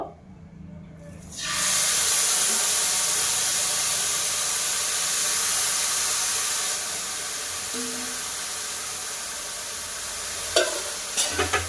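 Sugar syrup poured onto deep red fried vermicelli for jorda semai bursts into a loud, close sizzle after a quiet second, then hisses steadily and eases slightly, with a few clinks near the end.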